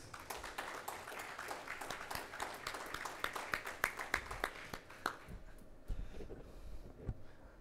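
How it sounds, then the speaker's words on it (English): Audience clapping at a valedictory ceremony of an IT, AI and blockchain world auto forum, greeting team K2B Learning as it comes on stage; a moderate, steady patter of many hands that thins out toward the end. "Let's have a round of applause"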